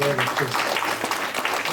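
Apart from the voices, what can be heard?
audience applause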